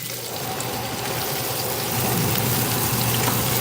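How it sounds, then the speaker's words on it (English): Kitchen exhaust fan running during stovetop cooking of peppers, steak and rice, a steady broadband whoosh with a low hum that grows slightly louder partway through, with no voices. "I'm gonna turn this fan on for a second"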